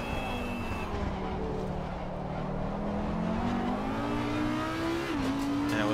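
An Audi race car engine drones continuously around Donington Park in the racing sim Assetto Corsa Competizione, its pitch climbing steadily before a quick gear-change dip and renewed rise, loud and close throughout.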